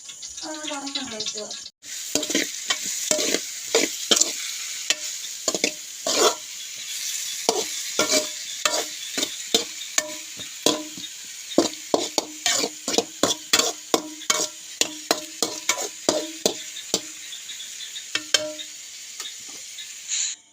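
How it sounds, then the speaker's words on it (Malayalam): Vegetables are stir-fried in a pan with salt, turmeric and chili powder. A spatula scrapes and clatters in repeated, irregular strokes, close and clear, over a faint sizzle throughout. "അങ്ങനെ മെഴുക്കൂറ്റ അടപ്പത്ത് വെച്ച് ഇച്ചിരി ഉപ്പും മഞ്ഞൾപ്പൊടിയും കൂടി ഇട്ട് മുളക് പൊടിയും കൂടി ഇട്ട് ഇളക്കി നന്നാക്കി വെച്ചു"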